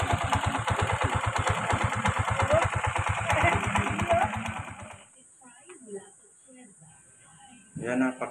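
A motorcycle engine idles on old oil that has not yet been changed, with a steady, close, rapid pulsing chug for about five seconds before it cuts out. Quieter sounds and a voice follow.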